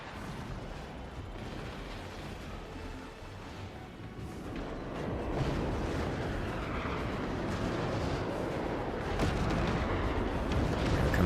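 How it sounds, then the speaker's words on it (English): Cannons fire nonstop in a video game battle, a dense, continuous rumble of booming blasts that grows louder after the first few seconds and keeps pounding steadily with no voices. "the Russians are just pummeling them with cannons"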